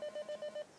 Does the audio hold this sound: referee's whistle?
no